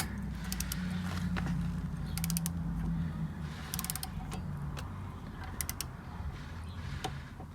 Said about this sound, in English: So I'll tighten this up until it clicks.